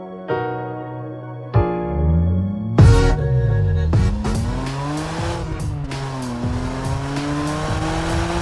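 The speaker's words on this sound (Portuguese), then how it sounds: "Hoje trago-vos um 6 cilindros atmosférico." A naturally aspirated six-cylinder BMW 130i revs hard through the gears, its engine note climbing and dropping in sharp sweeps, loud and close with tire noise underneath and no voices.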